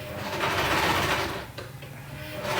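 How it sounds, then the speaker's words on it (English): A sewing machine runs steadily at close range, its fast mechanical whirr and rattle continuing with a brief slowdown midway before picking back up. "Oh, Messina's sewing."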